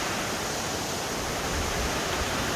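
Bongnae Falls on Ulleungdo, a multi-tiered waterfall, pouring in a steady, loud, broadband roar of rushing water with no other sounds.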